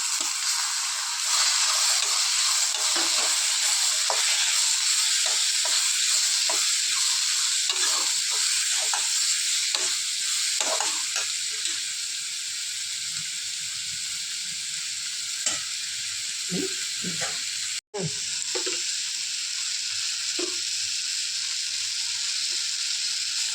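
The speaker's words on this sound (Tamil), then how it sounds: "இப்போ நம்ம எடுத்து வச்ச தக்காளியை போட்டு வதக்கணுங்க." Onion, tomato and ginger-garlic sautéing in a pan for egg kothu chapati, a constant close sizzle broken by frequent scraping and stirring knocks, with a short sharp clack near the end.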